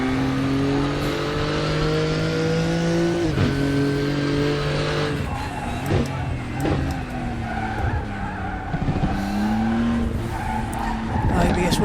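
Race car tyres squealing as they lock and scrub under heavy braking in the Raceroom racing game with the Porsche DLC cars, engine revs dropping through downshifts and ABS chatter under a voice talking.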